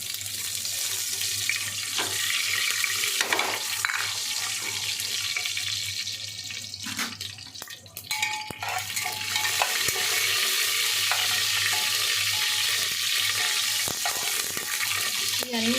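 Tempering spices sizzle and crackle in hot oil in a pan while preparing mutton curry, a continuous loud frying hiss with occasional stirring scrapes and clinks.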